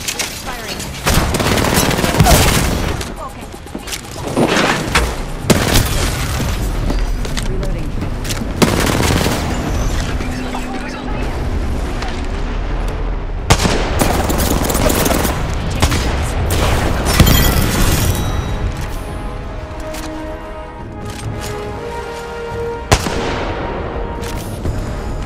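Dense, loud gunfire from the video game Apex Legends keeps going almost without pause, rapid bursts mixed with heavy booms and explosions, with voices speaking now and then.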